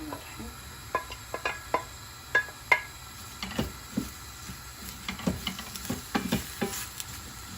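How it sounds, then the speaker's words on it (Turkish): Oil sizzles steadily in a pot with onions, with scattered sharp crackles and pops over a low background hiss. "Soğanımız pişsin. Soğanımız da pişiyor."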